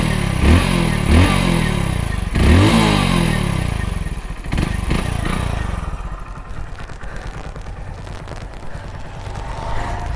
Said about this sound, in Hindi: बाकी आपको इसके एक बार एग्जॉस्ट नोट वगैरह भी सुना देता हूँ